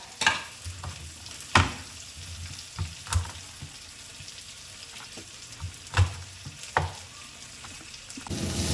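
Shallots sizzle steadily in a hot pan, a continuous frying hiss broken every second or two by the sharp scrape and clatter of stirring, close up with no talking.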